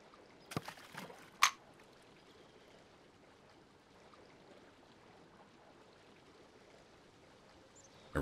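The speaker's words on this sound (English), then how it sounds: "Let's cast this way. We can watch the waterfall." A waterfall in the survival video game SCUM makes a faint, steady rushing wash, preceded by a few quick handling clicks and a sharp tick near the start.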